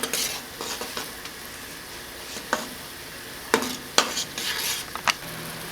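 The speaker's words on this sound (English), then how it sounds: "Continue stirring." Basil syrup is stirred at a hard boil in a pot, giving a steady bubbling hiss with occasional sharp clinks and scrapes of a spoon against the pot, close and with no talking.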